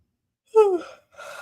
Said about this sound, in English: I'm so sorry, I'm yawning.